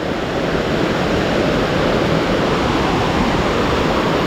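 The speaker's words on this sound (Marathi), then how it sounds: "पाण्याचा फोर्स एवढा आहे ना भयंकर भरपूरच पाणी आहे" Loud, steady roar of a stream in spate during heavy monsoon rain fills the whole stretch, a dense broadband wash with no pauses and no voices.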